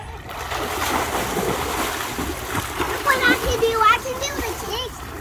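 A young girl swimming in a pool in Florida, her strokes and kicks making continuous close splashing, with a voice and an adult's voice talking over it.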